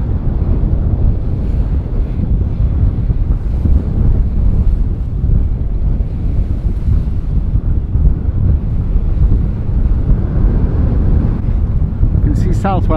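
Strong wind roars steadily against the microphone over choppy waves and surf slapping a sailing boat heading down the coast toward Southwold, with wind blowing against the tide; loud and continuous throughout, with a brief chirpy sound near the end.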